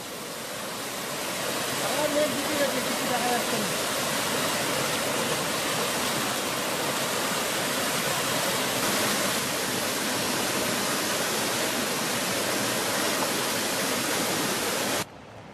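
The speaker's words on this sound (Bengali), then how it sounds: "আবার পড়লো একটা ঝর্ণা।" Mountain waterfall on a Himalayan trekking trail toward Annapurna Base Camp, a loud, steady rush of falling water that fills the scene without a break and cuts off abruptly at the end.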